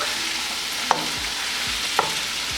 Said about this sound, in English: At this point, I'll add in the tomatoes and let this cook